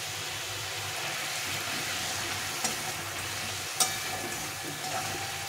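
Spice masala with Kashmiri chilli powder being sautéed in a pan, a steady moderate sizzle with two sharp clinks of a spoon against the pan and occasional scraping stirs.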